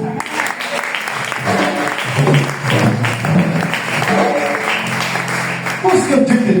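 A church congregation claps and cheers in praise of the Holy Spirit, a loud, steady burst of applause with voices calling out over it throughout.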